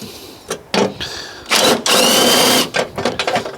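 Socket wrench loosening a nut on the corroded main earth strap of a Fiat 500, heard as a few short, sharp bursts of close metallic ratcheting and clicking with brief gaps between them.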